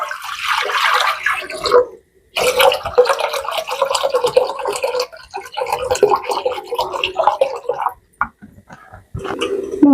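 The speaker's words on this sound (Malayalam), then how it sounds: "ഇതിലേക്ക് കുറച്ച് തണുത്ത വെള്ളം ഒഴിക്കാം കേട്ടോ." Cold water is poured into a pot for steaming eggs, a splashing, gurgling flow that runs in uneven spurts with brief pauses.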